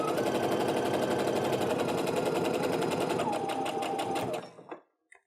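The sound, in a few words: sewing machine sewing quilt block seam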